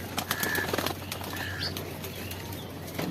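Racer pigeons on a rooftop give soft coos and chirps amid some wing flutters and a low steady background hum, with no one talking.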